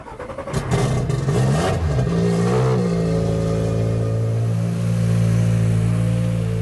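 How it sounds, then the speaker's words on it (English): A turbocharged rally car engine revs hard up close, rising quickly then settling into a loud, sustained roar with shifting pitch. "The sound of this car is definitely unique because of the amount of compression that the turbo pushes into this engine."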